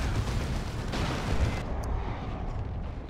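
Heavy cannon fire from the Dawn of War 2 video game, a dense low rumbling barrage of booms at close range that continues for the whole moment before easing slightly.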